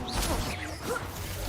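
A Confringo blasting spell hits in a Hogwarts video game, giving a crashing impact with whooshing swishes in a short, dense burst.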